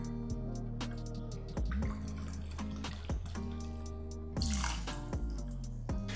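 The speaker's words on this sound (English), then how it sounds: "Then we're gonna add 2 ounces of bourbon." Two ounces of bourbon are poured into a julep cup for a mint julep, making a close trickle of liquid broken by several bright metallic clinks and plinks, with no voices.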